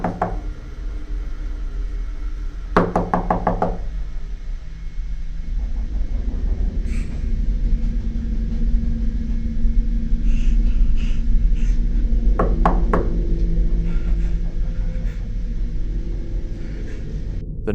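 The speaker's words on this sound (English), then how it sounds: "The knocking did not stop. It got louder." Loud knocking on a door, two sharp bursts of rapid raps against a low steady rumble, the first early and a second cluster later, with no talk.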